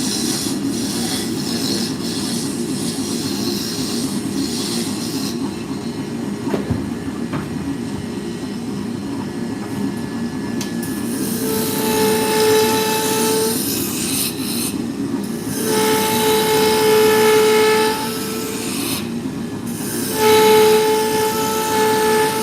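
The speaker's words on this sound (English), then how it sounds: "So with the scraper, you're just doing that. You're scraping. You're not cutting." A scraper works against spinning wood on a lathe, turning out sawdust, a loud steady grinding rumble with a thin whine that comes and goes over the machine's drone.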